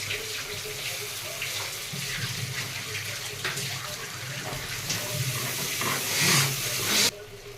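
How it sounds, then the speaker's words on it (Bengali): A bowl that held cashew and poppy seed paste is rinsed with water, and the rinse is poured into a cooking pan. The water splashes and hisses steadily up close and swells near the end before cutting off, with no talk. "কাজু আর পোস্ত বাটার বাটিটা ধুয়ে একটু জল দিয়ে দিলাম।"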